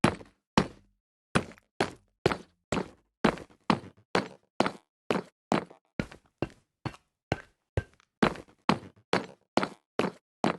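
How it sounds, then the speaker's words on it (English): Minecraft nether brick slabs, stairs and walls being placed or stepped on: a steady series of about twenty sharp, dry knocking thuds at a regular walking pace, close and clear with silence between hits. "These are updated sounds for nether brick slabs, stairs, and walls."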